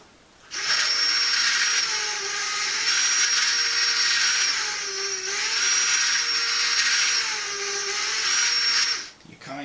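A Hornby OO gauge model railway turntable grinds steadily as it rotates, a continuous whirring, high-pitched mechanical drone lasting several seconds with a faint tonal whine, close up and alone before cutting off.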